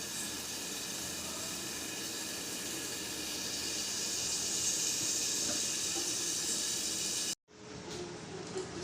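A mixer grinder grinds a sautéed, cooled mint and coriander thuvaiyal with a loud, steady, hissing whir that runs for about seven seconds and then cuts off abruptly, followed by a brief quieter rustle.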